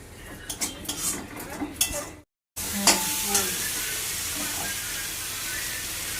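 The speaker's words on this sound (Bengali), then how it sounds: "কড়াইতে তেল দিয়েছে তেলে এবার ফোড়ন দেওয়া হবে" Spices hit hot oil in a wok for tempering, bursting into a loud, continuous sizzle after a brief silence, preceded by clinks and scrapes of stirring utensils against the pan.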